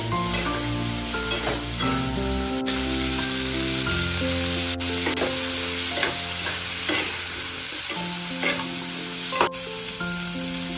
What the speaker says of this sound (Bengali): সবজি ভাজার সময় অল্প নুন ও হলুদ দিয়ে ভাজতে হবে।